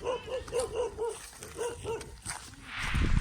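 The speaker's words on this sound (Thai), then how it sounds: "มันก็เลยเห่า" A dog barks in a quick run of regular, moderately close yaps, pauses, barks a few more times, and then gives way to rising rustling noise.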